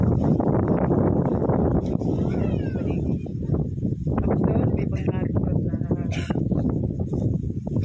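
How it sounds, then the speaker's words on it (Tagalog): Strong wind outdoors on the coast at Dingalan, Aurora, roaring and buffeting the microphone in a loud, continuous low rumble, with a voice faintly audible beneath it. "Kahit na medyo mainit, hindi mo mararamdaman na yung mainit sa lakas ng hangin"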